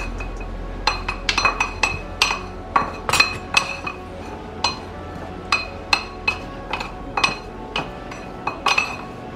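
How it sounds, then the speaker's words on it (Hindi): A spoon tosses salad dressed with lemon juice in a bowl, producing a quick, irregular series of bright clinks and taps against the bowl that repeat steadily at close range with no talking. "अब इसको हम अच्छे से मिक्स करेंगे"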